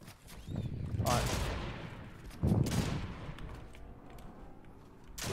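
Bursts of gunfire ring out in Fortnite, two heavy shots with long echoing tails over soft background game sound, fairly loud and close.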